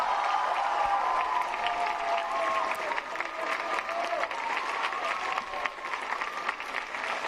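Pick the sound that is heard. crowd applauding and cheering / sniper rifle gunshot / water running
crowd applauding and cheering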